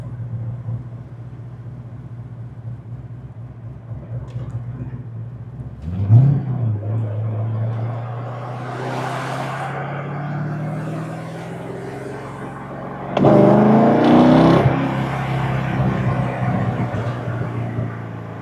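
A Corvette C6 Z06 V8 runs at a steady, close idle, then revs up briefly twice, the second blip louder and held longer before settling back to idle.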